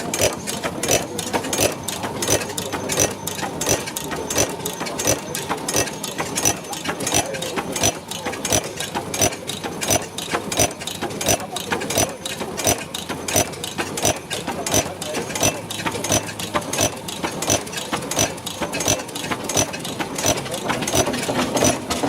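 An early 20th-century Behrendt horizontal, low-speed gas engine built to run on city gas or coal gas chugs steadily with rapid, evenly spaced mechanical beats and clattering gear noise, loud and close throughout.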